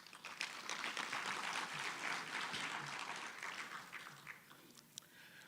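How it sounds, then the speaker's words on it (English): An audience claps in a sustained round of applause that holds steady, then thins out toward the end, with a few scattered last claps. The sound is faint and seems distant. "They deserve a round of applause."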